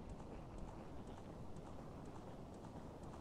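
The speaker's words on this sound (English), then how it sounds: "Look at Ganon just riding a horse." Galloping horse hooves as Ganon rides in the Legend of Zelda: Ocarina of Time game, a steady dense clip-clop rhythm under continuous background music.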